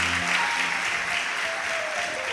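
A church congregation claps loudly in praise during a sermon, a dense, sustained wash of applause from many hands that fills the whole moment.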